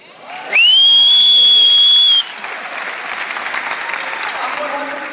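An audience at a motivational rally claps, opening with a loud whistle-like tone over the applause, then settling into steady, dense clapping from a crowd that continues to the end.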